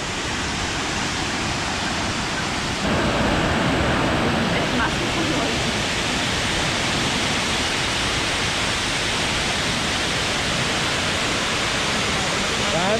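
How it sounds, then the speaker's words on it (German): Stuibenfall, the highest waterfall in Tyrol in the Ötztal, crashes down nearby from a via ferrata, a loud, unbroken roar of falling water filling the whole clip. "Wahnsinn, wie das Wasser abgestürzt."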